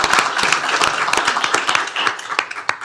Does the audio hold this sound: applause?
yes